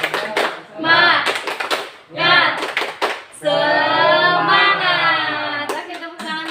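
A group of children in an Indonesian school group-counseling session claps a quick rhythmic spirit clap, sharp bursts of hand claps mixed with loud chanting voices that swell into a long sustained shout.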